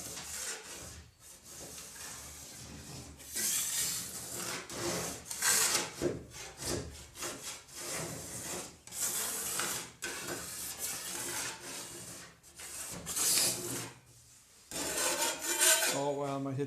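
Close, repeated scraping strokes of a blade rasping high spots off a hard epoxy coating, chipping it off flat, coming in uneven bursts with brief pauses.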